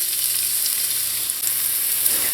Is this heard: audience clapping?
no